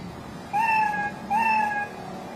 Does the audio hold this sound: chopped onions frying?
no